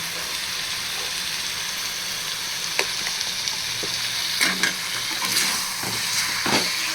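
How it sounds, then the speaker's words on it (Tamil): Mutton liver fries in a pan with turmeric, chilli powder and pepper, giving a steady close sizzle throughout, broken by a few sharp clinks and scrapes of a spoon stirring. "மஞ்சத்தூள் சேர்த்து நல்லா ஃப்ரை பண்ணிவிட்டு"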